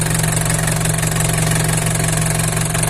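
An Isuzu 4BC2 diesel engine idles steadily up close, with a loud, even rhythmic knock throughout and no voices.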